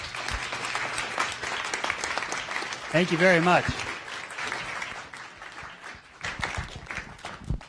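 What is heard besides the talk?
audience applause for a guest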